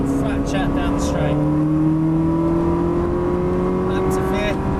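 A Ferrari engine roars loudly and steadily as the car accelerates flat out down a track straight, pitch rising smoothly, with a voice talking over it.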